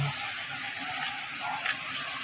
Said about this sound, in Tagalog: Ito yung fountain dito sa amin.